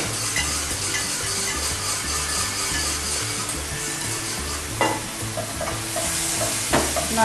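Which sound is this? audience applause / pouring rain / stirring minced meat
stirring minced meat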